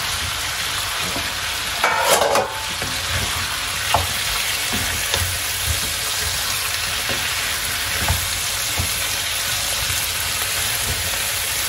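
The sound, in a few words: wild mushrooms added to hot pan, frying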